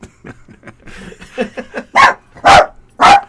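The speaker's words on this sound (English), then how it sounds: "So apparently the dogs are in here, and I didn't know." Dogs in a room barking three times loudly and close, after a stretch of quieter sounds that may be soft whines or laughter.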